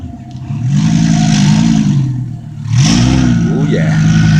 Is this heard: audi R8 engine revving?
yes